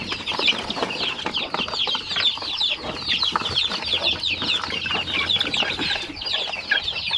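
A brood of young chicks, about a month old, cluck and peep busily at feeding time, a dense, constant chorus of overlapping calls from many birds close by, with no voices.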